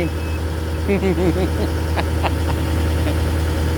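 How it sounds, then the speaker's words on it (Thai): A farm tractor's engine idles with a low, steady rumble throughout, with a few short clanks and faint voices mixed in nearby. "ผู้ใหญ่ขับรถไถนะครับ"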